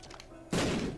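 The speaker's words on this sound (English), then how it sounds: "Bomb through here." A bomb goes off in the video game Binding of Isaac: Rebirth. A single short, punchy blast cuts in after quiet game sounds and fades over half a second.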